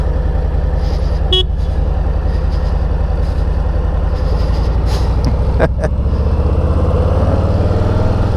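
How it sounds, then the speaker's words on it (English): Motorcycles ridden by passing bikers rumble past in a continuous loud engine drone, heard from a moving motorcycle with steady road and wind noise and a few short higher-pitched blips. "we've got some bikers coming by"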